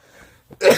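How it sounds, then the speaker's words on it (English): A single sharp sneeze bursts out at the end after a quiet stretch of faint breathy noise, loud and close, from someone sorting dusty Lego. "I've been sneezing a lot lately."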